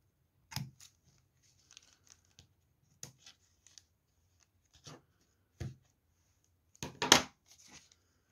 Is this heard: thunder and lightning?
no